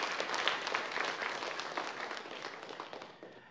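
A church congregation breaks into warm, crackling applause to welcome the youth group students, the clapping dense at first and gradually tapering off toward the end.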